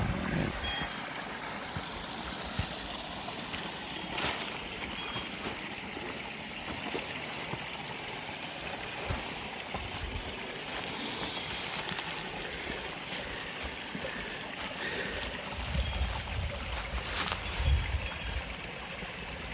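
A little stream flows from a hillside spring with a steady, close trickle and gurgle. Occasional soft knocks and rustles sound over the running water.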